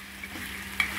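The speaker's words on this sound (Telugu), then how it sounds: "అలాగే నెమ్మదిగా చేసుకోవాలండి చికెన్ ఫ్రై." Chicken fry sizzling in oil in a pan while being slowly stirred, a steady close frying hiss with a brief scrape of the spoon near the end, no voices.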